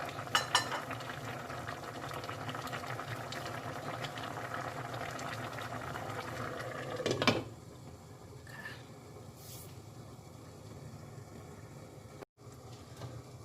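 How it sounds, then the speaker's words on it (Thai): Mushroom curry with fermented fish sauce bubbling vigorously in a covered pot in a home kitchen, a dense steady boil that drops away abruptly partway through, leaving quiet room noise. "ตอนนี้ก็เดือดปุดๆเลยค่ะท่านผู้ชมนี่"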